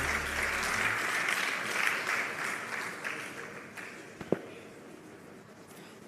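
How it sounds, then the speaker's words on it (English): Audience applause fills an awards ceremony hall at a retail industry congress, a sustained dense clapping that gradually thins and fades, with one sharp louder clap near the end. "A round of applause for Mr. Chidi Okoro."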